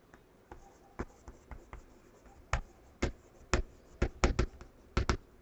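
Chalk or marker writing on a classroom board during a physics lesson, a run of crisp taps and short scratchy strokes in an irregular rhythm, close and clear with no talking.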